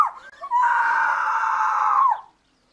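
A woman in a radio drama of The Greengage Summer lets out one long, loud, sustained scream that rises sharply, holds for nearly two seconds, then breaks off into silence.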